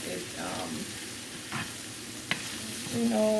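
Ackee and saltfish sizzle softly in a frying pan as a spoon stirs gently through them in a few short scrapes, close and fairly quiet, with a brief bit of voice near the end.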